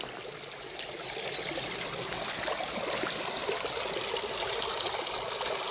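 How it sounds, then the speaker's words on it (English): A small creek, running high after rain, rushes and burbles steadily nearby, a continuous broad watery hiss that stays at an even, fairly loud level. "Even the little bitty creek right here."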